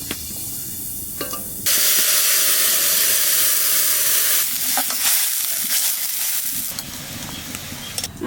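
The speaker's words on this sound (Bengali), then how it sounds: "তেলের পর দিয়ে দেবো কালো জিরে এইবার সর্ষে বাটা দিয়ে দেবো" Nigella seeds and mustard paste hit hot oil in a Bengali hilsa fish curry, bursting into a loud, steady hiss of sizzling that drops back partway through and then swells again, close up with no voices.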